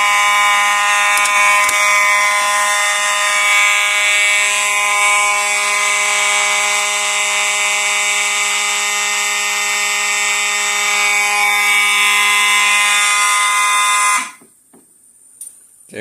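A fire alarm set off from a Notifier NFS2-640 fire alarm panel blares in a loud, steady, tonal electronic wail, close and continuous, until it cuts off abruptly near the end, leaving near silence.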